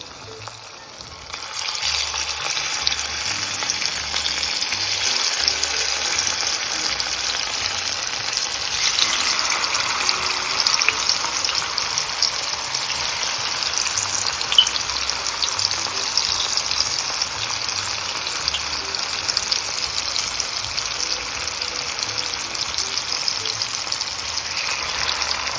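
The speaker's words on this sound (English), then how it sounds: "I'm going to start frying them in this oil" Cut yuca pieces fry in hot oil, giving a steady, close, continuous sizzle and crackle with no talking.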